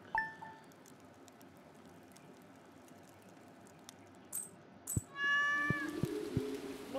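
Cat meowing in the farming video game Stardew Valley, a few clear mid-pitched game meows near the end after soft chimes and background game music.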